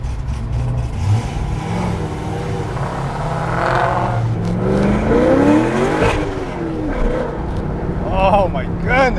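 A Ford SVT Terminator Cobra accelerates hard and loud, its engine rising through revs with a gear change partway, while excited voices shout over it.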